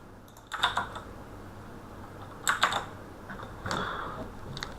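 Close computer keyboard typing in short bursts of rapid key clicks, three clusters separated by brief quiet gaps, against a faint room background.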